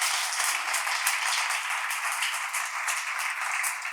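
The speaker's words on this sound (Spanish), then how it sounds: "Un aplauso para Félix, que es hoy" Steady applause from an audience welcoming the author Félix G. Modroño at a book presentation on World Book Day, a dense continuous wash of many hands clapping at even strength throughout.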